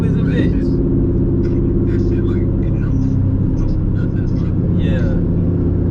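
A Camaro fitted with lowering springs cruises along the road, its steady low engine and tire rumble droning continuously from inside the cabin while someone talks over it.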